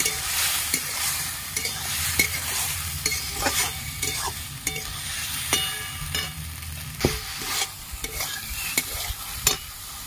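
Okra frying with poppy seed paste in a pan, stirred with a spatula that scrapes in irregular taps over a steady oily sizzle, close and fairly loud.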